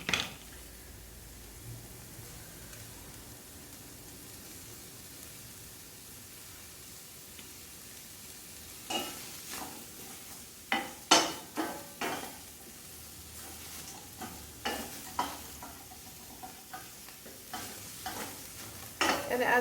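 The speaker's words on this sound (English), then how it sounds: "Now you can hear the sizzling starting." Vegetables and onions stir-frying in a pan, a continuous soft sizzle that grows louder, with intermittent scraping and stirring clatters in the second half, close and without talk.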